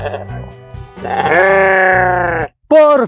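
A sheep bleats in a cold highland setting in Roncesvalles, Tolima, giving a long wavering cry followed by a short second bleat after a brief pause, loud and close, preceded by some low grunting.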